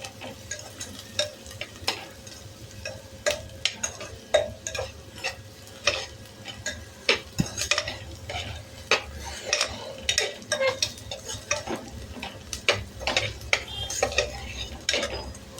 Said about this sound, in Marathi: असं छान परतून घ्या. एक 5 मिनिट आपण परतून घेऊया.